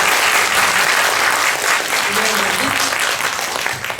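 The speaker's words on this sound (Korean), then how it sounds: "이번 배우님께 큰 박수 부탁드립니다" An audience claps warmly at a Korean film screening Q&A at Cinecube, dense sustained applause filling the theater for several seconds, with a few voices murmuring beneath it.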